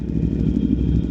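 A 2018 Aprilia Tuono V4 1100 Factory motorcycle is heard while riding, as a loud, close, continuous low engine drone that holds steady throughout.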